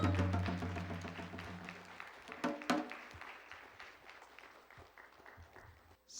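Guests at a traditional Korean wedding at Korea House clap for the bride and groom. The sharp, scattered claps sit over fading tonal music and trail off softly into near-quiet.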